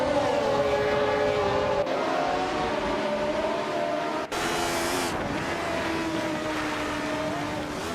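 Engines of 1970s Formula One cars, a Hesketh 308B among them, roar steadily in a racing video game. Continuous drones shift in pitch through the pack, loud and close throughout, with no talking.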